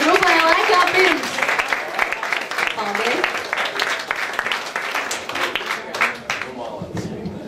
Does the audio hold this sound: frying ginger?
no